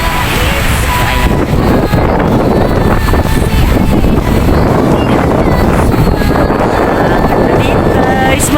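Strong gusty wind buffets the microphone on the waterfront at Victoria Harbour on a cold day, a loud continuous roar with no speech.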